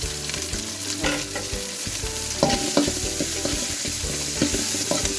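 Onion and green chilies frying in a hot pan with oil, steady sizzling throughout while a spoon scrapes and stirs them in repeated clattering strokes, close and fairly loud, with no talk.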